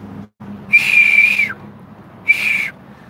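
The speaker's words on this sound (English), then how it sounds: "I can't whistle as loud as I used to." Someone whistles loudly in two sharp, steady tones, the first held about a second before dipping, the second shorter, close and alone over a low background hum.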